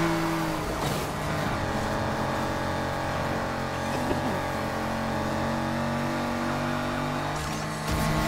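Car engine in the Need for Speed Heat street racing game roaring steadily at high revs under nitrous boost, a loud continuous drone with shifting engine tones throughout.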